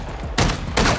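Two loud, close shotgun blasts in a shooter game, evenly spaced less than half a second apart, each a sharp broadband burst over low background hum.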